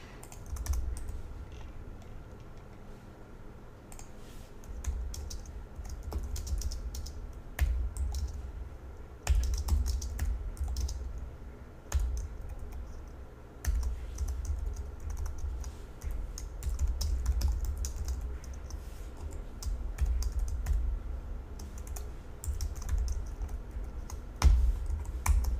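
Steady computer keyboard typing while code is written, close clicking keystrokes in uneven bursts and brief pauses over a low background hum, no speech.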